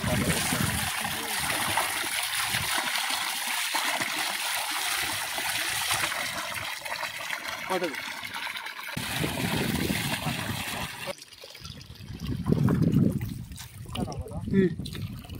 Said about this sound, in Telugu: వాటర్లో అయితే కడుగుతున్నాం అనమాట ఫిష్ని